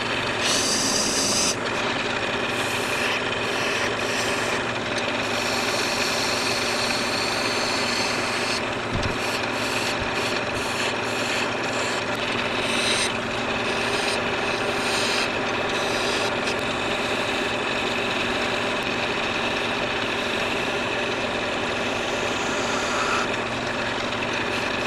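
Wood lathe turning a ring post, with a steady motor drone under a continuous gritty scraping of the tool against the spinning wood, close and even, with brief shifts in texture as the cut changes.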